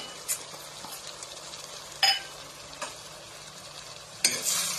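Ginger-garlic paste sizzles softly in a pan while pork with kosu (taro) is stir-fried, with a steady low fry and a few sharp clinks of the spoon against the pan as it is stirred.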